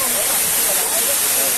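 Dudhsagar waterfall in South Goa, a steady broad rushing roar of falling water filling the short clip, with faint voices mixed in.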